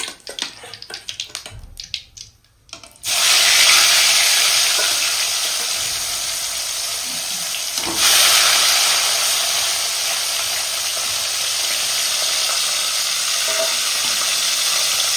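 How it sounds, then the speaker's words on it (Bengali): Live koi fish sizzling and frying in hot oil in a pan, a loud steady crackle that surges once partway through and stays dense, with faint handling noises at the start and no talk. "কত সুন্দর করে ভেজে নিচ্ছি, ঠিক আপনারা কিন্তু এইভাবে কিন্তু মাছটা জ্যান্ত কই মাছ ভেজে নেবেন।"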